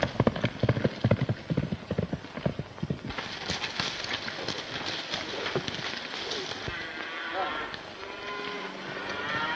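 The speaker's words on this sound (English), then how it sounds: "Get on your horses, let's go." Horses gallop with rapid, loud hoof beats in a 1932 Western film, fading into a rumbling mix of hooves and distant commotion, with shouting voices over it.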